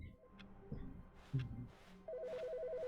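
In a video game, a telephone starts ringing with a warbling electronic trill that repeats steadily. It comes in over quiet background sounds and a few soft thuds.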